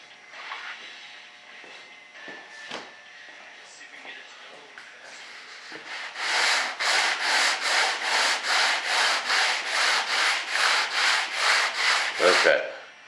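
Coarse 80-grit sandpaper works over the primer coat on an RC jet model of a B-1 Bomber. Quieter scattered scraping comes first, then about fifteen loud, rhythmic back-and-forth strokes close up, with someone talking early on.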